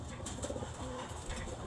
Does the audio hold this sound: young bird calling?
yes